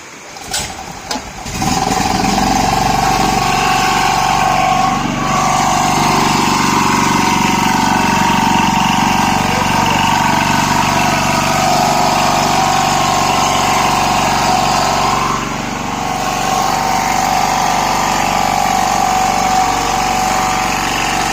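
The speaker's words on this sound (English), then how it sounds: "So turn on the gen like a regular gen, pull the choke" A small portable generator fitted with an LPG/CNG carburettor conversion starts up, then settles into a loud, steady droning run with slight surges, close by and continuous.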